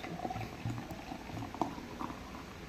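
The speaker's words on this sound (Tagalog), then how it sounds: "Tapos, lagyan natin ng tubig na malamig." Cold water pours into a barley drink, a bubbling, gurgling liquid sound with small splashes and patters, fairly quiet and close.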